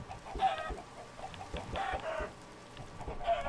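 Minecraft chickens cluck in short, repeated bursts at moderate volume, with no talk over them.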